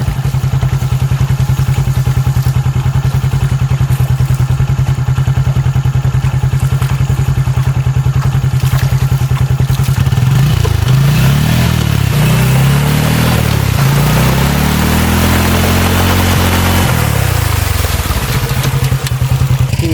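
A motorcycle idles loudly and steadily at close range in elephant jungle near Galgamuwa, its even putter swelling into a few wavering revs midway before settling back to idle.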